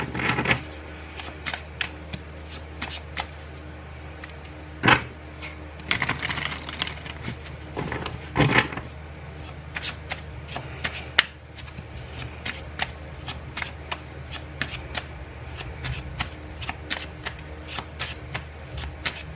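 A deck of tarot cards is shuffled by hand at close range, giving continuous soft rustling with frequent crisp slaps and flicks for about nineteen seconds.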